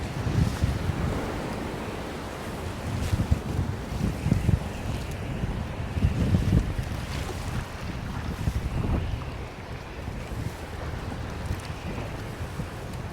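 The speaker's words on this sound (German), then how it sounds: "Im Endeffekt ist es auch nur Wind." A strong headwind blows over the lower Klarälven river. Gusty, rumbling wind buffets the microphone in uneven surges, mixed with a faint wash of water against the boat, and no one speaks.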